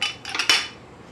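A whisk clatters against a bowl of gluten-free lava cake batter in a quick burst of a few bright metallic clinks and scrapes, then fades.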